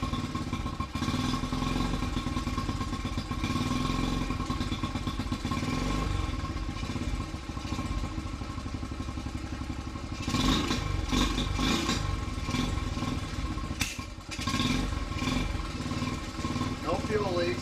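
A Honda CT70 motorcycle fitted with an XR70 carburetor idles on choke with a steady, close, loud putter, with a few revs and light clatter and people talking over it.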